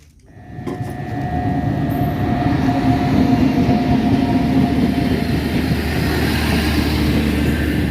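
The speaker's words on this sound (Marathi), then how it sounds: "आली आली ट्रेन आली" A Konkan Railway train rumbles into a station, its roar swelling from quiet to a steady heavy drone with a faint tonal whine, rolling close by.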